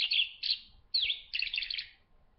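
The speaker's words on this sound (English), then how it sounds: "it says on there that it's an actual bird call" A stuffed toy bird plays a recorded real bird call: bright, clear chirps in three quick bursts, the last a rapid trill, loud and close with nothing else around them.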